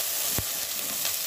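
Ginger goes into the hot pot for chicken tinola with a sharp burst of sizzling that settles into a steady, close frying hiss.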